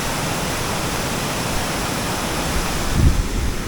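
Strong water current at Malatap Falls makes a dense, constant rushing roar, loud and close, with a brief heavier gust of wind or splash near the end.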